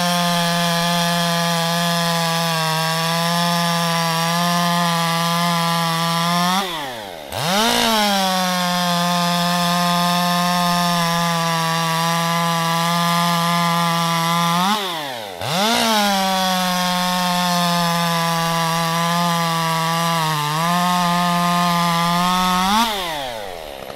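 A chainsaw fitted with a Stihl 63 PS3 full chisel low-kickback chain cuts through wood, a loud steady high-revving drone broken by two brief bogging dips as the cuts finish, heard alone.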